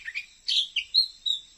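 A male Oriental magpie-robin (kacer) sings close by, giving a quick series of bright chirps and whistled notes alone in a quiet setting.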